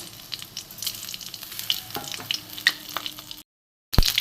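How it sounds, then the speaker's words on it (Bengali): Bay leaf, dried red chili and cumin seeds crackle and sizzle in hot mustard oil, a steady close frying hiss that cuts out briefly near the end and then returns with a sharp burst; no talking. "সর্ষের তেল দিয়ে দিয়েছি। দিয়ে আমি একটা তেজপাতা, একটা শুকনো লঙ্কা আর একটুখানি আমি জিরে দিয়ে দেবো।"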